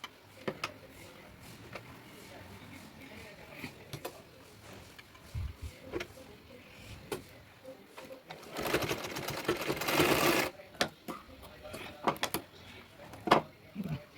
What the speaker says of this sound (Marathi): शिलाई मारून घ्यायची